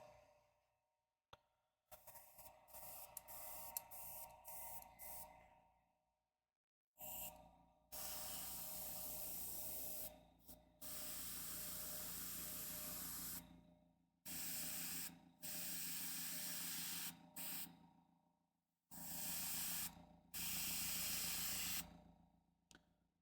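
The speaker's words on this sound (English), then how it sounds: "Airbrush on." An airbrush sprays paint onto a miniature for a Sororitas Exorcist model, giving close, soft hissing bursts of several seconds each, repeated many times with brief pauses between them and no talk.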